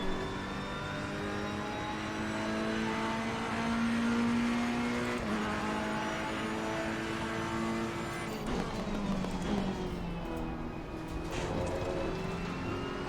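Ferrari race car engine in a racing video game, roaring loud and close throughout with rising and falling revs, a downshift and a sharp pitch drop near the end as it takes a corner.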